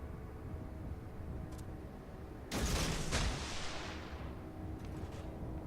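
German 88 shore battery artillery fire in World of Warships: a single loud, sharp boom strikes mid-clip and fades in a long decaying roar over steady low engine-like background noise.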